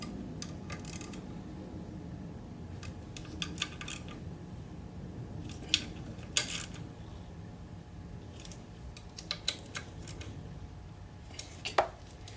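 A torque wrench tightens water pump bolts on a 2005 Ford Freestyle 3.0L, giving sharp intermittent clicks and metallic taps over a low background rumble, spaced irregularly across the clip.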